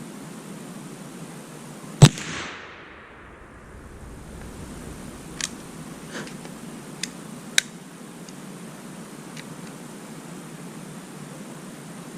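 A single sharp rifle report from a Thompson Center Seneca .36 black powder rifle rings out outdoors, followed by fainter scattered clicks and distant pops against a steady noisy background.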